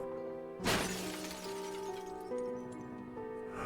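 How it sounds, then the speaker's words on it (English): A collector's face shatters in the game Dredge: one sudden loud glassy crash and break, then sustained eerie tonal drones ringing on alone. "His face shatters and falls to the ground."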